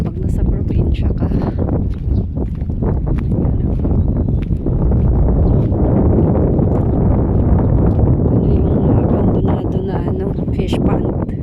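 Seashore wind buffets the microphone in a constant loud, low roar. A person talks over it throughout.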